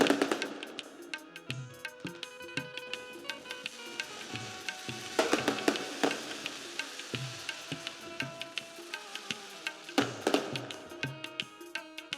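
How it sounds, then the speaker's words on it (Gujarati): Firecrackers crackle and pop in dense, rapid bursts, with louder cracks standing out from a continuous spattering string of small bangs. "ફટાકડા રહેવા જો ને ઘડીક બાપા"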